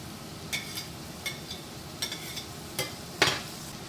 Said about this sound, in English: we are trying to really break up the clumps of that beef